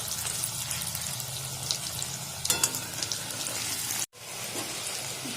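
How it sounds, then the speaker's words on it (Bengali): Egg-coated jackfruit pieces sizzle steadily in hot oil, with a brief clatter as they are flipped partway through and a momentary cut in the sound before the frying hiss resumes. "এবারে একবার করে উল্টিয়ে দিয়ে এপিট ওপিট উল্টিয়ে ভেজে নেব।"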